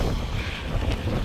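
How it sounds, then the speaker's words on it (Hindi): Strong wind roars across the microphone during a snowstorm at Niagara Falls in bitter cold, a loud, continuous buffeting rumble with no break. "और इतनी तेज़ हवा, बहुत मज़ा आ रहा है यार।"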